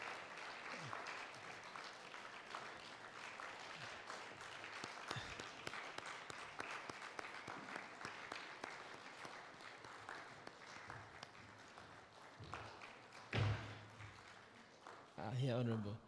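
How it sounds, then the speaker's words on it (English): An audience applauds steadily throughout a fintech exhibition event, a dense continuous patter of claps with voices talking over it and a louder burst near the end. "People clap."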